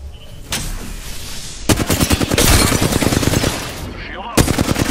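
Rapid automatic gunfire fills an Apex Legends battle in loud bursts of closely spaced shots, pausing briefly between volleys, with scattered game sounds underneath.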